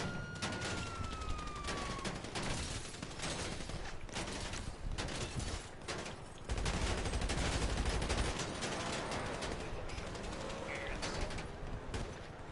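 Rapid gunfire in a roleplay video game, dense bursts of shots crackling loudly and almost without pause over a busy street scene, with a siren-like tone faintly audible early on.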